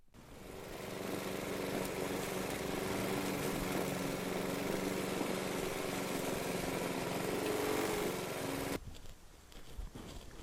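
A lawn mower engine starts up and runs steadily at close range for most of the time, a loud continuous drone that cuts off abruptly near the end, leaving faint background noise.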